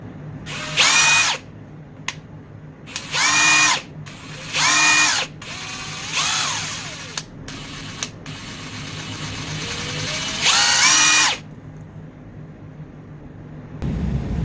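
A Ridgid 3/8-inch Octane brushless impact wrench fires in short bursts, roughly five loud whirring runs with brief pauses between them, close up with no talking.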